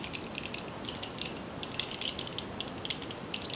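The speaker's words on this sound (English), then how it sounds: "I'm going to grab my screwdriver again and tighten it up" A screwdriver turns the silver terminal screw on a tripod table lamp, giving quiet, rapid metallic clicks and ratcheting ticks in irregular bursts, close up with no talk.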